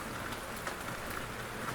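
Rain falls steadily in Bolzano, a northern Italian city, as a soft, even hiss of drops on surfaces with no voices.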